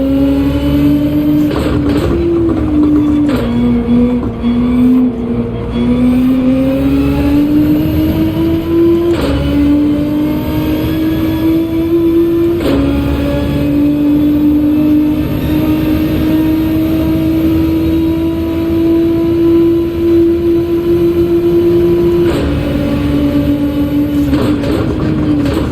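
Race car engines in Gran Turismo 7 during a crowded daily race hold a loud, steady whine that rises and dips through gear changes, continuous and close for the whole stretch.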